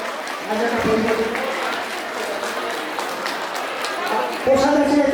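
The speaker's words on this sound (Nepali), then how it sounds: "कृपया ताली लगाइदिनु होला।" An audience claps steadily at a Tamu Samaj Losar celebration, a dense, sustained applause with a voice speaking over it near the end.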